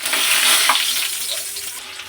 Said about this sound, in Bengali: ওই তেলের মধ্যে ফোড়ন দেবো গোটা জিরে আর তেজপাতা।